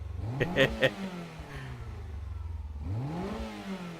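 Pre-VTEC, chain-driven Honda car engine in Gran Turismo 7 revving: a rising, buzzing motor climbs and falls twice, with a brief speaking voice partly over the first rev.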